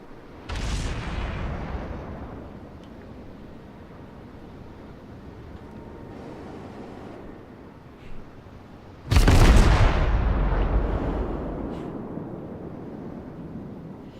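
Warship main guns firing in World of Warships: a deep booming salvo early on, a quieter rumbling stretch, then a second much louder close salvo with a long rolling decay, no talk over it.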